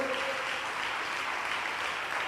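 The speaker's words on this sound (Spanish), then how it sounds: "Dele más fuerte las palmas al Señor." Church congregation clapping their hands in praise, a steady wash of continuous applause filling the room with no voices on top.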